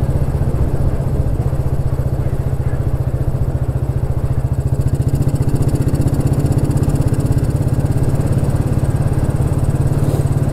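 A Royal Enfield Bullet 350 single-cylinder motorcycle engine thumps steadily in top gear, a close, loud, even low-pitched beat with mechanical clatter running throughout.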